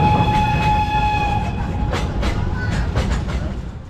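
The Mocanita Hutulca narrow-gauge steam train in Moldovita, Bukovina, Romania, rolls along its rails with rhythmic clickety-clack and a sustained whistle tone at the start, close and fairly loud, with no talk.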